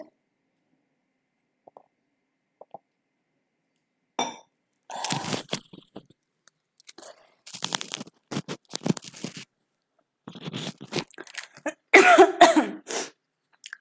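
Several bursts of harsh coughing and throat clearing from a speaker with a sore throat, close and fairly loud, spread across the clip after a quiet start, with short pauses between fits.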